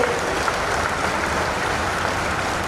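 Audience applause at a chief minister's public address, a dense, steady clapping from a crowd that continues evenly throughout.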